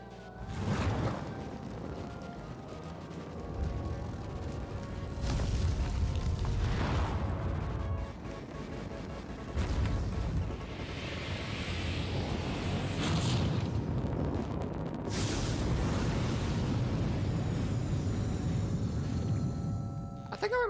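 Hellfire fire attack from the Shadow Hearts video game on PS2, a series of heavy booming explosions and rumbling fiery bursts rising and falling over about twenty seconds, with a sharp crackling burst near the end.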